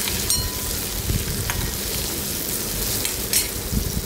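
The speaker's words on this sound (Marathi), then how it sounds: "आता याच्यामध्ये टोमॅटो बारीक चिरलेला आहे तो घालायचा आहे, आणि टोमॅटोसुद्धा कांद्यासोबत परतून घ्यायचा आहे व्यवस्थित।" Finely chopped tomato sautéed with onion in a pan for a dry ivy gourd vegetable dish, giving a steady, loud sizzle with occasional scraping stirs throughout.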